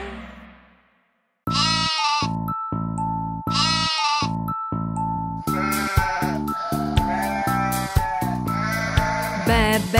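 Sung-style goat and sheep bleats in a children's animal song, a series of loud, wavering calls over steady musical backing, starting after a brief quiet opening.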